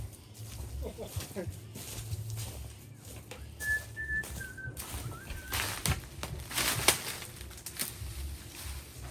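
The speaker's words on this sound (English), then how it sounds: "What are you whistling?" A short, wavering whistled tune with a few sliding notes, fairly faint amid background chatter and room noise.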